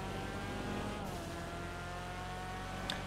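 A video game Annis ZR350 (Mazda RX7) sports car engine hums steadily at close range with a smooth, continuous drone, and a brief high squeak near the end.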